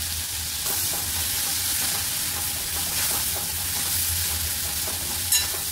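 Chopped tomatoes frying in hot oil in a pan for spicy guava (peru) bhaji, a steady close sizzle with faint stirring scrapes and one brief clink near the end.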